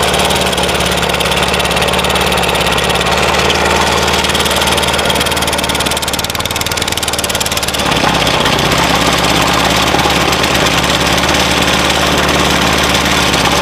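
A small engine on a Pantone setup running on 75% water and 25% petrol drones loudly and steadily up close, its rough continuous rumble unbroken throughout.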